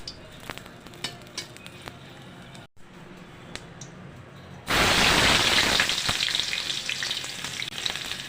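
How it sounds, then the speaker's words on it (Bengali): Dried chillies hit hot oil in a pan with gourd greens, bursting into a loud, steady sizzle and crackle after a few seconds of quiet kitchen clatter and light taps. "কয়েকটা শুকনো মরিচ একটু ভেজে নিচ্ছি"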